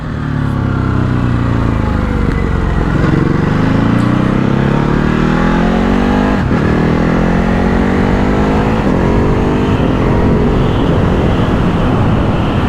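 A Ducati Hypermotard 950 SP motorcycle pulls hard through the gears, its engine note climbing in a rising whine, dropping briefly at each shift, then climbing again, loud and close throughout.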